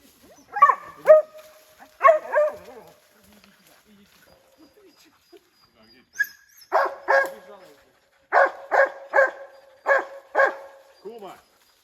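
Hunting dogs barking at a bear outdoors, two early barks then, after a pause, a series of repeated sharp barks in quick bursts, fairly close and loud, with speech-like sounds among them.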